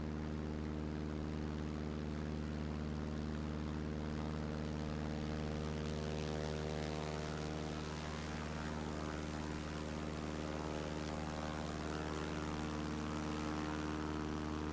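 A propeller airplane's engine in flight over Silverstone in England in Microsoft Flight Simulator 2024 drones steadily and evenly throughout, a loud, constant, buzzing hum with no talk.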